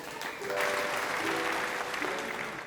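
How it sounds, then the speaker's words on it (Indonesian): A seventh-grade junior high class applauds together, a dense, even burst of clapping that swells quickly and holds steady before tapering slightly, with faint voices mixed in. "tepuk tangan untuk semua"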